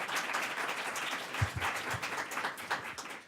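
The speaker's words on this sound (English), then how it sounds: "Please, let's give them a round of applause for this really great panel." A room of attendees at a Capitol Hill policy briefing on the earned income tax credit claps for the panel, moderate steady applause with a few sharper close claps standing out.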